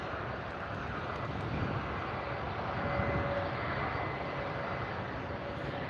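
Southwest airliner taking off from runway 24L on the north side of LAX, a steady broadband jet-engine roar that holds loud and even throughout with a faint tonal whine, no voices.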